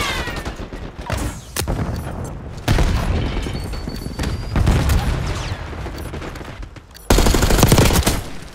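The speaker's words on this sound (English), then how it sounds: "Using smoke. Grenade out." Gunfire and explosions in Call of Duty: bursts of rapid automatic fire and sharp booms, with loud blasts near 1.5, 2.7 and 7.1 seconds and heavy rattling fire between them.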